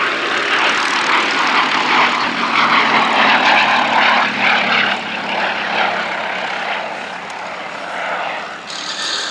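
A Gloster Gladiator biplane's propeller engine drones loudly and continuously at the 2017 Duxford Battle of Britain Air Show, a strong steady roar with slight swells as it passes.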